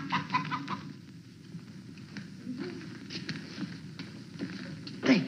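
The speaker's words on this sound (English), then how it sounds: "The hen that lays golden eggs." A hen clucks in short, scattered bursts from a 1955 television comedy show, moderately close and soft, with brief rustling between the calls.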